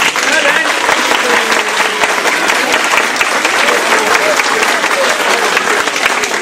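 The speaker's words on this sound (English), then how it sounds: "Give yourselves a clap." Audience clapping after a Welsh folk song, a dense, steady burst of applause lasting several seconds, with voices mixed in.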